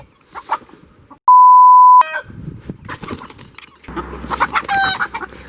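Hen being captured in a chicken coop, brief clucks and squawks with wing flapping and scuffling, close by, interrupted by a loud steady electronic beep partway through.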